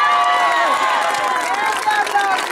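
A crowd at a children's pony-category football final cheers and applauds for team Diablitos, a dense, loud, steady wash of voices and clapping throughout.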